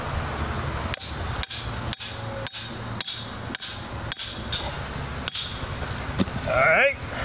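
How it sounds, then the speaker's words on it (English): A Duke 550 trap stake is driven into the ground with about ten sharp, evenly spaced hammer blows, close and loud, followed by a brief squeaky scrape at the end. "we're gonna set our Duke 550 night latch right there, and all we're gonna do is drive that in the ground"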